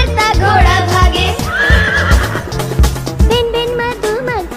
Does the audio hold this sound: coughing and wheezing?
no